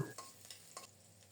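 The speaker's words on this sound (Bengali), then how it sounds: "পেঁয়াজটাকে একটু লালচে করে ভেজে নেব" Soft, steady sizzle of onions and chillies frying in oil, with a few brief stirring scrapes over the faint crackle.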